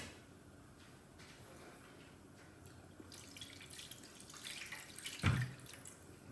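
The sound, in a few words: water from a kitchen tap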